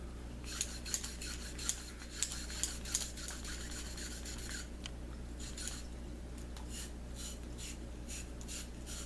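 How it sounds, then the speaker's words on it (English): A brush scrubs a semi-automatic handgun in quick rasping strokes, close and fairly quiet, with a few sharp small clicks of metal among the repeated scrubbing. "I was about to scrub again"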